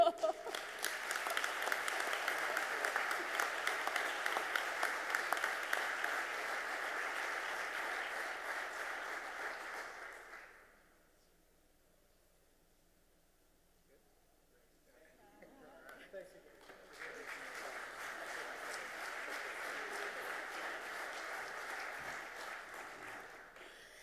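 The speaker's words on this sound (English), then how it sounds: "let's give another big round of applause to all of our award recipients tonight" An awards-ceremony audience at a project delivery summit claps for the recipients, two steady bursts of applause split by a few seconds of near silence, with faint voices in the gap before the clapping swells again.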